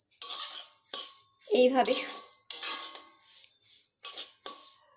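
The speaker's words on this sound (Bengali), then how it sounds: "এই ডালিয়াগুলোকে আমি হালকা একটু ভেজে নেব।" Dalia (broken wheat) lightly fried in a wok, heard as a run of separate dry scraping strokes from a spatula against the pan, close and clear, with a voice speaking briefly between strokes.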